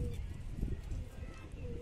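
Pigeons on a rooftop, among them a red male puffing and cooing at a hen, give low, soft, rolling coos close by while someone talks quietly in the background.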